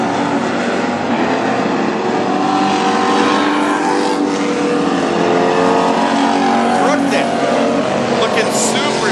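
Dirt track race cars at North Central Speedway roar steadily as they circle, a loud, continuous engine drone with rising and falling pitch, while an announcer talks over the noise.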